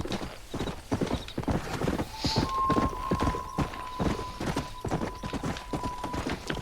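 Horse hooves clip-clop at a steady walking rhythm in the Red Dead Redemption video game, close and continuous, with a brief whinny and a faint tonal game sound midway.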